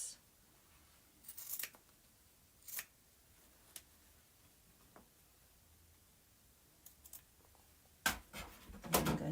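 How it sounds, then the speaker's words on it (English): Scissors cut quilt fabric, with several sharp snips spaced irregularly and a quick run of close, crisp cuts at the end, against an otherwise quiet room. "Just going to cut it with my scissors."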